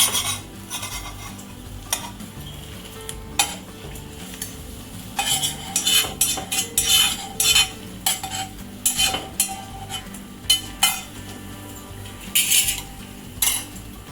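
Japanese tamagoyaki omelet is turned and rolled in a pan, with a low sizzle under clustered metallic scrapes and taps of a utensil against the pan. The scrapes come in bursts, loudest midway and near the end, and no one speaks.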